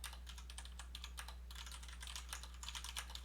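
Rapid, even keystrokes clatter on a computer keyboard, a close run of light clicks in quick bursts over a low steady electrical hum, with no voices.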